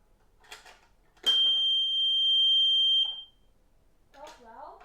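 A newly installed fire alarm system sounds during a test: a loud, steady piercing electronic tone held for about two seconds, with people talking quietly before it and again after it stops.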